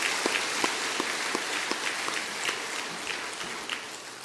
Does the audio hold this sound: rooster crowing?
no